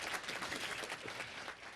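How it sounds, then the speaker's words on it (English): Audience at a Hall of Fame ceremony gives a round of applause, a fairly faint, even patter of many hands throughout. "that deserves a round of applause."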